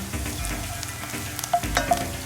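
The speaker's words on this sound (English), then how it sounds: "Just want to toast the spices in there as well." Cayenne pepper and a bay leaf sizzle and toast in a New Orleans-style gumbo pot with tender vegetables, a steady close frying crackle with a few louder stirring clatters near the end.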